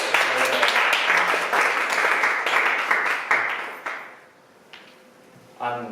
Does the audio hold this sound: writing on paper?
no